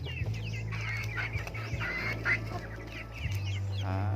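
Rhode Island Red chickens cluck and call steadily at close range in a backyard flock, with a constant low hum running underneath the whole time.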